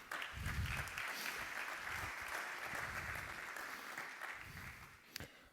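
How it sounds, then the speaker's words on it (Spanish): Sustained audience applause fills a conference hall at the AGALIN'25 event, steady and fairly distant, greeting the founder of AC8 Arquitectura, then tapering off with a few scattered claps near the end. "Y un fuerte aplauso para él."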